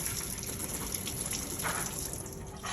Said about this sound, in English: I'm going to lift my tray out, and then I will rinse all this excess stuff off.